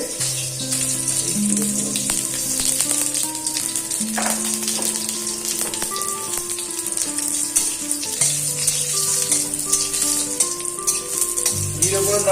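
Cumin seeds and green chilli fry in a pan cooked without oil, giving a steady crackling sizzle over a constant tonal hum in the background.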